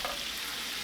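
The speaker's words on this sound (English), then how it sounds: "my butter is foaming. Going to go ahead and get my lamb in the pan." Ground lamb sizzles in foaming butter in a pan for shepherd's pie, a loud, even, close frying hiss that holds steady with no speech over it.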